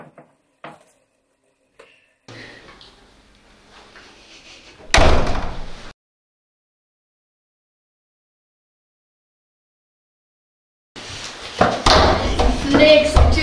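A door slams shut hard in a single loud burst midway through, after quieter scraping and movement with brief talk, then silence before more noisy rustling and voices resume.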